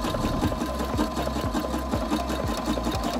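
A sewing machine stitches back and forth across the waistband of swim trunks, a steady close mechanical whir with even, rapid needle pulses throughout and no talking.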